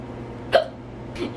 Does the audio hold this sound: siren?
no